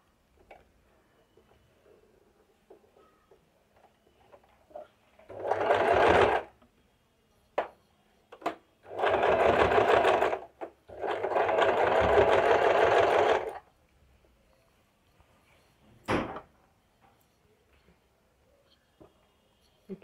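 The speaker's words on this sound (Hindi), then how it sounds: "और अब इस पर हम सिलाई के ऊपर ही सिलाई डालेंगे बराबर से।" A sewing machine stitches straight over a seam through three layered pieces of cloth, running in several bursts of a few seconds each, close and clear, with small clicks and handling noises in the pauses between runs.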